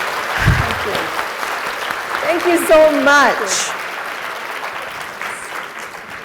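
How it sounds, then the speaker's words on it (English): Conference audience applauds a speaker at an early childhood celebration event, a steady wash of clapping throughout, with a voice briefly speaking thanks over it midway. "Let's give her another round of applause."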